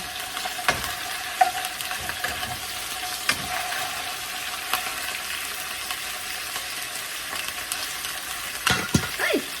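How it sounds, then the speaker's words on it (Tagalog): Chicken browns in a pan for chicken adobo with a continuous, moderately loud sizzle and frying crackle, punctuated by occasional pops and spatters, with no talking. "I-brown lang natin yung chicken."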